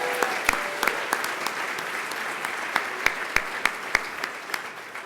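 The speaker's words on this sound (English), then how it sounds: "let's give a huge round of applause to our servers" A dinner crowd at a political summit gives the servers a sustained round of applause, dense clapping from many people filling the room with sharper individual claps popping out, a few voices faintly underneath.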